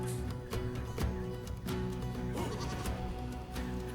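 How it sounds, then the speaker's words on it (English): Several feral goats bleat in short, wavering calls on a ridge in Australia, overlapping and repeating outdoors at moderate distance, with faint background noise between cries. "Just got a couple of goats that are feeding up on the same ridge as us."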